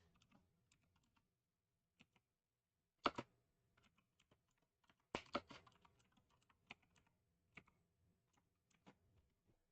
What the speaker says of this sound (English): typing away. Sorry for the noise.